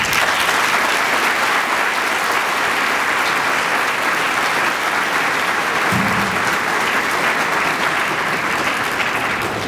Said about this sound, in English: So I want to give you a round of applause.